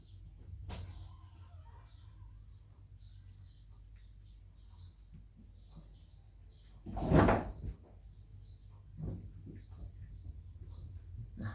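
An indoor door swings open with a single short clatter near the middle, set against a quiet room with faint background hum and a few soft thumps, where a cat waits by the door.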